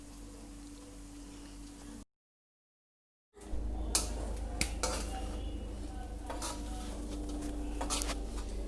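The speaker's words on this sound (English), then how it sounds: "And then mix the rice until even distributed." Rice for sausage fried rice is mixed in a pan, quiet scraping and clinking of a utensil against the pan after a brief silent gap, soft and fairly steady with faint background noise.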